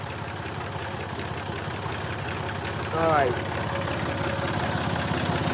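A warmed-up tractor engine idles on a chilly day in a steady, low rumbling drone, with someone speaking briefly over it partway through.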